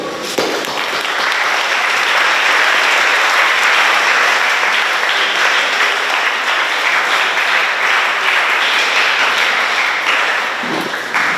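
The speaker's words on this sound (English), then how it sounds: "give them a round of applause for supporting me." A school audience at an Education Week event gives a loud round of applause for a speaker's parents, dense clapping that swells quickly and holds steady for several seconds before tapering near the end.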